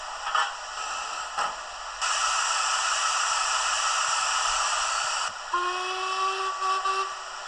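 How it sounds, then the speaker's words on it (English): Steady loud hiss of steam venting from a model locomotive's safety valve, a Hornby Black 5 with steam generator, lasting several seconds, with a brief whistle-like tone rising near the end; no talking. "safety valve"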